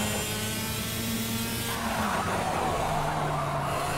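Race car engine roaring steadily through a corner in Project Cars, a continuous loud drone with tire squeal and a pitch shift midway as the car powers out, no talk over it.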